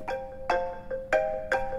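A mobile phone ringtone sounds in a classroom, a short repeating electronic melody of bright tonal notes pulsing about twice a second, fairly faint and heard alone.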